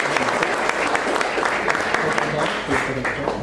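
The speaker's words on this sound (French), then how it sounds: "Je crois qu'on peut applaudir la première." Audience at a French slam poetry contest breaks into sustained, fairly loud applause that runs steadily for several seconds, with crowd noise mixed in.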